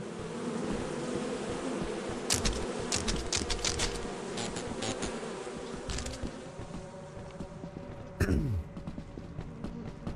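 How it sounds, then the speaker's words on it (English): Bees buzzing in the Lethal Company video game, a steady insect drone throughout with scattered clicks and brief sharper bursts, fairly close and with no speech over it. "So I'm gonna try the bees."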